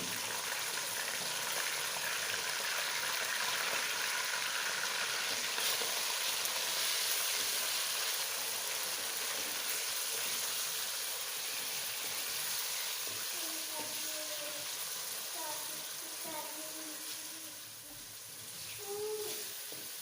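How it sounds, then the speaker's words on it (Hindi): Chicken frying in a pan with browned onions for Chinese biryani, a dense, steady sizzle and hiss that carries throughout, close and loud, with a few faint stirring clinks. "चिकन को अच्छी तरह जो है ना फ्राई करना है, ताकि अंदर तक जो है चिकन पक जाए।"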